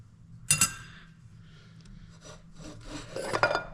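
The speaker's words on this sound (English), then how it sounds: "Get this return spring out." Metal transmission parts being handled as a return spring is pulled out of a Ford E4OD automatic transmission, with a sharp clink near the start and then scraping, rubbing metal contact that builds again toward the end, close up with no talking.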